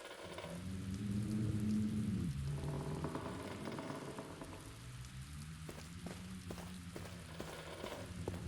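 Steady rain hisses in through a broken window in The Black Mirror video game, a constant wash of drizzle with a low droning undertone and a few faint ticks of drops, soft and even throughout.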